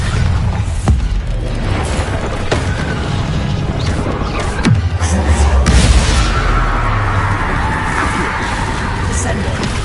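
Bombarda blasting spell in the Hogwarts Legacy video game, heavy crashing bangs and a rumbling blast amid loud ongoing combat noise, with a voice heard calling out over the action.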